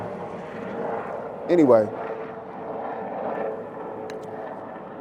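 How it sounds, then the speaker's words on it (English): Helicopters fly overhead on a snowy day outdoors, making a low, steady, distant rumble that continues under a voice talking in a yard. "We got helicopters flying."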